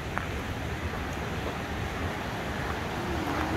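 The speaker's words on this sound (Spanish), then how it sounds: "Esta es cascada, ¿no?" Steady broadband rush of a waterfall in a canyon, a continuous roar of falling water heard from nearby with no talking.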